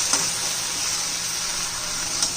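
Okra frying in an uncovered pan for a spicy bhindi dish makes a short, even, bright sizzle with a couple of faint stirring ticks, heard up close with no voices.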